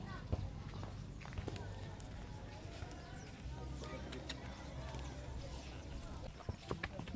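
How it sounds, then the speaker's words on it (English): Horse hooves clip-clop in a steady walking rhythm while being ridden outdoors at Taal Volcano, heard beneath faint voices and background noise. "We're riding on a horse right now."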